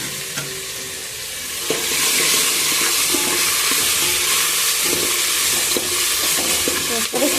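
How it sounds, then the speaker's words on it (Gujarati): Tomatoes and chillies sizzle loudly in hot tempering oil for Gujarati dal dhokli, a steady frying hiss with occasional stirring clinks and spatters. No one speaks over it. "અને વઘાર માટે આપણે ટમેટા અને મરચાં."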